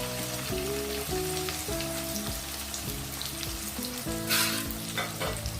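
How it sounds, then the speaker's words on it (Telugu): Chopped onions and green chillies fry in hot cooking oil, giving a steady close sizzle with occasional stirring scrapes, while music plays over it throughout. "ఉల్లిపాయ పచ్చిమిర్చి కొంచెం ట్రాన్స్పరెంట్గా అయ్యే వరకు ఫ్రై చేయండి"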